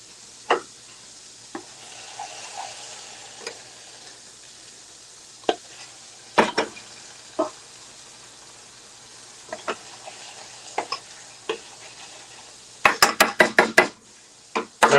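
Orzo and zucchini simmering in a pan, a soft steady sizzle under repeated light knocks of a spoon against the pan, ending in a quick cluster of sharp clacks.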